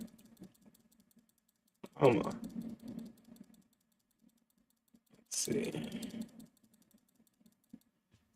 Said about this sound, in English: that clicking's probably super annoying. I might have to get a quieter mouse or something